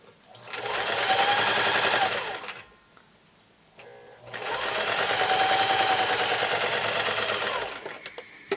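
A sewing machine stitches pieced quilt block fabric for a Broken Dishes block in two steady, loud runs of rapid motor whirring and needle chatter, separated by a short pause.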